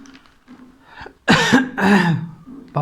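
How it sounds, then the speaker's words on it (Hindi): Two loud, harsh coughs in quick succession after a quiet stretch of faint talk, then a brief sound at the end. "इस खांसी को हम नहीं दबा पा रहे"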